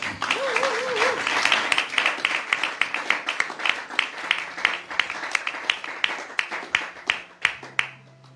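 A church congregation bursts into applause and cheering to acclaim Jesus, with dense clapping that gradually thins into scattered claps, and voices calling out over it.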